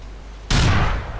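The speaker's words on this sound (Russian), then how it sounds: "интересно, если я сейчас с нее выстрелю" A single gunshot in Grand Theft Auto IV, a sudden loud blast after a quiet lead-in that decays over a fraction of a second into a rumbling, explosion-like tail.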